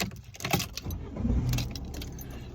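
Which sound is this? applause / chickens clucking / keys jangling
keys jangling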